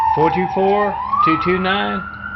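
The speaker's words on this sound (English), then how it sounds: "So when you hear that siren" A siren wails with a rising and falling pitch, loud and near, while someone talks over it.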